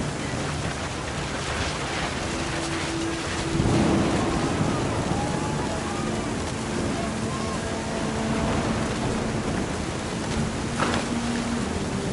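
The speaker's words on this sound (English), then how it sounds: "The thunder sounded much too close and full of angry power." Thunder rumbles in the video game What Remains of Edith Finch, a broad stormy roar with rain and a swell around the four-second mark, with faint tonal music and voice traces underneath.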